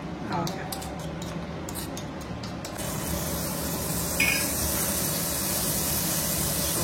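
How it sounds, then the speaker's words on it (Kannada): Paneer roasting on a hot tawa, with a steady sizzle and hiss and several light metallic clinks and scrapes from a utensil near the start, with a brief voice at times. "ಪನ್ನೀರ್ ತವಾ ಫ್ರೈ ರೆಡಿ ಆಗ್ತಿದೆ ಇಲ್ಲಿ"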